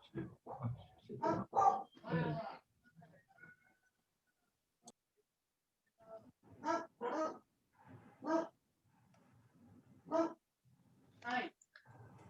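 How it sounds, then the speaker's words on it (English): A dog barks repeatedly in short, sharp bursts, loud and close, with quiet pauses between groups of barks. "Sounds like someone has a canine companion with them."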